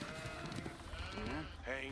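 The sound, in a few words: sheep bleating in video game Age of Empires 4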